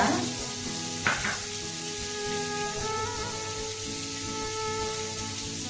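Chana dal and peanuts frying in hot oil for a samiya upma tempering give a steady, close crackling sizzle throughout, with a brief clatter near the start.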